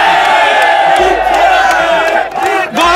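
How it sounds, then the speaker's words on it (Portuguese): Loud crowd of spectators shouting and cheering at beach games on Boqueirão beach, a dense continuous roar of voices with whoops and chants filling the whole stretch, dipping briefly near the end before surging again. "Cadê a torcida do Enzo aí?"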